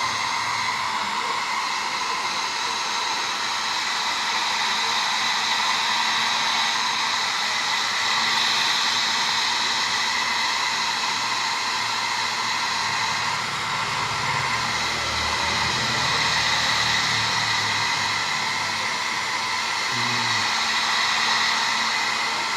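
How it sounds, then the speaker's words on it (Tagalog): A heat blower runs continuously while warming a decal sticker so it adheres, a steady airy whir with a high whine, close and constant, its pitch shifting slightly as the nozzle moves, with no speech. "Tapos, i-blower na natin para dumikit ng maayos yung sticker natin mga boss."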